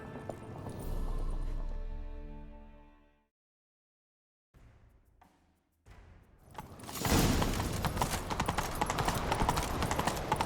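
In The Witcher 3 video game, a horse whinnies, then after a brief silence hooves break into a fast, loud gallop, hammering steadily toward the end.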